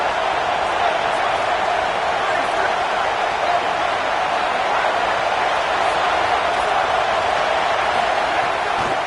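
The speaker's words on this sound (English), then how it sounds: "Decibels rising as the crowd gets behind this defense on 3rd down." Stadium crowd cheering for the defense on third down at a football game, a steady, dense roar of many voices that holds at an even loud level throughout without letting up.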